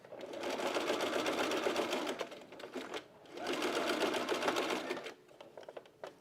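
A sewing machine zigzag-stitches stretch fabric along a curve on a bralette, giving two close, steady bursts of rapid mechanical whirring with a short pause between them.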